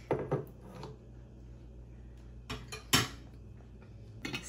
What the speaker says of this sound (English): I'm like ASMR glass scraping against a metal spoon